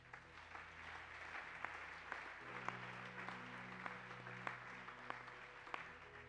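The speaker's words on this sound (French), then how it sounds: "Acclame d'abord pour la parole de Dieu." A church congregation applauding in a worship service, a faint, steady patter of clapping from a distant crowd with a low hum underneath, no speech.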